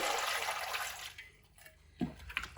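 Raw mangoes being washed in water produce a rushing pour that fades into gentle sloshing, then a sharper splash near the end, close by and with no talking.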